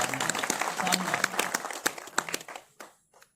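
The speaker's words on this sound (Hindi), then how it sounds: "एक बार ताली बजा के" Applause from an audience at a university poetry gathering, individual claps distinct and fairly close, thinning into a few scattered claps before stopping.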